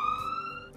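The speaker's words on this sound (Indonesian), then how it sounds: "Ni macam bunyi ambulans, cikgu." An ambulance siren holds a single loud, steady, close tone for under a second, with no talk over it.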